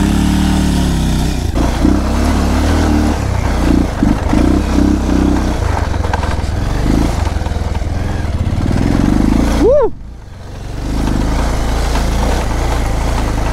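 A motorcycle ridden over a rough mountain road runs with a loud, close, rumbling engine that chugs and revs unevenly, with rattles and clatter over bumps and a brief dip in power near the end.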